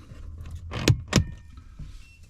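A motorhome power switch is turned to position 2, and two sharp clicks land close together near the middle, with a faint electrical hum and quiet background around them.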